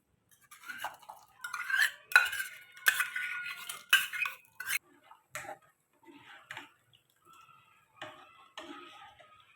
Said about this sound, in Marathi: सर्वात अगोदर हे छान तांदूळ भिजवलेले हे सगळं मी दुधामध्ये टाकून घेणार आहे आता.